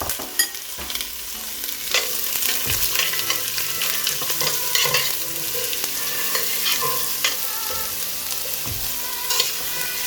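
Thinly sliced onions frying in a pan, a continuous close sizzle with scattered crackles and occasional stirring knocks, no voices.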